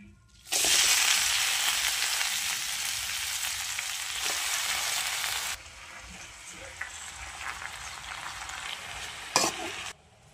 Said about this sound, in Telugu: వేపిన దాంట్లోనే కొంచెం ఆయిల్ వేసుకొని గోంగూర వేసుకోవాలి